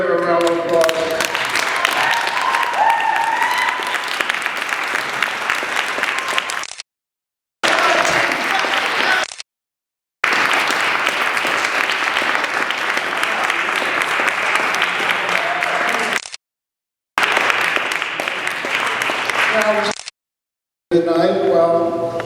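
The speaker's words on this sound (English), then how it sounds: "I think they deserve a round of applause." A crowd applauds loudly and steadily for a long stretch, with the clapping cut by several brief silent gaps.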